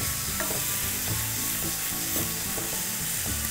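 Sesame toast mixture stirred in a frying pan, a steady sizzle with repeated soft scraping strokes of the spoon across the pan, close and continuous with no talk.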